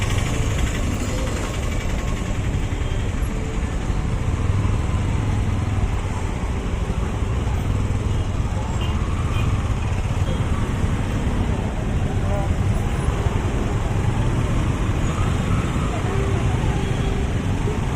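Dense road traffic on a rainy road in Coimbatore, a steady wash of engines, tyres on wet pavement and distant siren-like tones, continuous and fairly loud, with someone talking over it.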